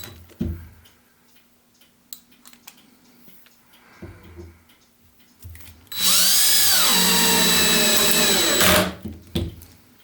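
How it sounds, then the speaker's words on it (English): A power drill drives screws through plastic during a model ship build, one loud sustained whirring burst of about three seconds that rises from quiet workshop ticking and stops abruptly. "and then I'll just put some screws through"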